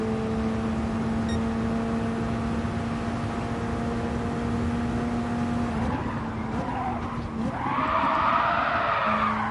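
A race car in Gran Turismo Sport runs a steady engine drone, then skids and squeals its tires as it crosses from banking onto flat track, with a rising whine near the end.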